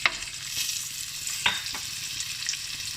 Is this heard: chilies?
yes